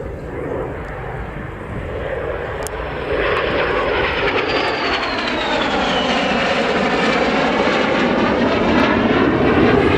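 Pair of de Havilland Vampire jet fighters in 336 Squadron Royal Norwegian Air Force markings flying an airshow display at Scampton, a loud steady jet roar that swells and holds with a rising whine, heard alone throughout.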